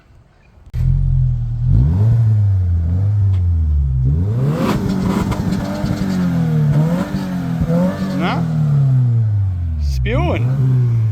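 A 2025 Subaru WRX with its mufflers removed starts up loud and close, then idles with a raw, droning exhaust and is revved several times in rising and falling bursts.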